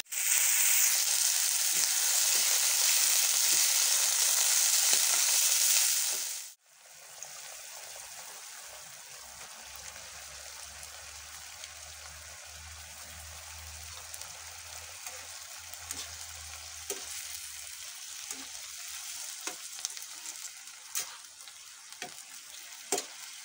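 Pancit noodles fry and sizzle in a pan, a loud bright hiss at first that drops sharply, then quieter crackling and stirring scrapes with small clinks continuing close by.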